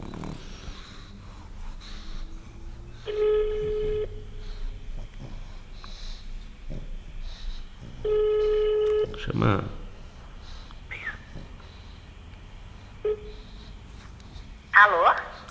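A phone call rings out through a speaker: two long ringback tones a few seconds apart, with a third starting, mixed with close breathing and sniffing noises and occasional talk.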